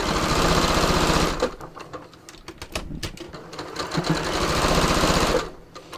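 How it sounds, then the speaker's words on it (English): Sewing machine running steadily on knit fabric with a longer stitch length, loud and close, then stopping for a spell of clicks and handling noise before a final burst of stitching. "I'm just going to stitch this, and I'm going to use a longer stitch length"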